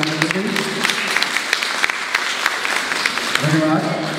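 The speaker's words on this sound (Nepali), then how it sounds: "सबै जनाले एकदम जोरदार थपडी बजाएर दिनुहुन्छ" Loud, dense hand clapping from an audience at a teachers' day honouring ceremony in Darjeeling, a sustained burst running throughout with a voice briefly audible near the end.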